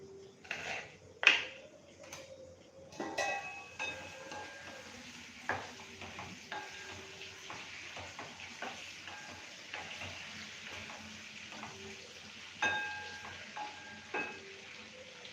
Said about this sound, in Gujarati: વચ્ચે વચ્ચે આપણે બટેટાને વઘાર કર્યો છે એને પણ આપણે વચ્ચે હલાવતા રહેશું।